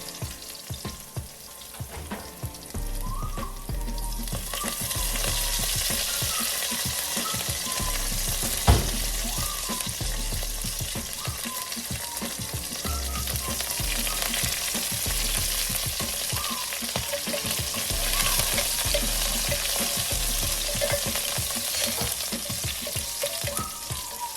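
Crushed garlic and curry leaves sizzle and fry in hot oil for a spicy pappucharu, with a constant close crackle and occasional scraping stir strokes against the pan, no voices.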